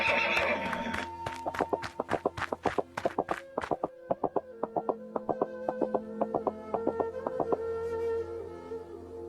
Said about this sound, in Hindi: तभी घोड़ा वहां आ गया।